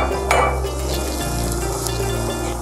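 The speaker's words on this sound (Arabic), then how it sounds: "في هاي المرحلة بننزل كل البصل على الزيت،" Chopped onions fry in hot olive oil for a Palestinian musakhan, giving a close, steady sizzle and crackle that holds through the whole stretch with no voices.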